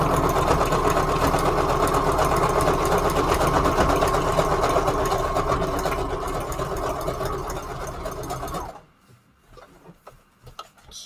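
A sewing machine running a long, wide zigzag stitch on a junk journal: a steady, loud mechanical whir with rapid ticking that runs for about nine seconds, then stops abruptly, leaving faint handling clicks.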